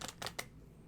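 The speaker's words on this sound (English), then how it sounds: "I'm just going to be shuffling my Lenormand because I know I'll be pulling a couple." Lenormand oracle cards shuffled by hand, three quick crisp riffling bursts close by in the first half-second, then quiet room tone.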